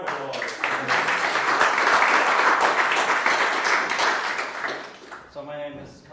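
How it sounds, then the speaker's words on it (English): An audience at a tech conference talk bursts into applause, dense clapping that builds, holds for several seconds and then tapers off. "give him a round of applause"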